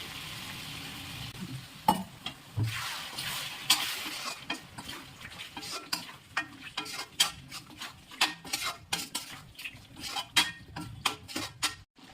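Water being poured into chicken gravy in a home kitchen pan, giving a steady sizzle and bubbling with repeated clinks and scrapes of a stirring utensil against the pan, close and moderately loud with no talk.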